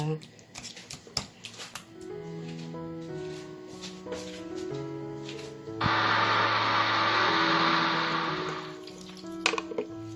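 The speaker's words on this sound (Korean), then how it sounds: "그래서 믹서기를 갈아줄 겁니다." A kitchen blender grinds cooked kabocha squash for sikhye, a Korean rice drink, starting abruptly midway as a loud steady whir for about three seconds, then stopping, with talk before it.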